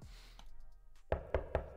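Three sharp knocks at the opening of a K-pop music video, following a low sustained musical tone that fades out, evenly spaced, loud and close.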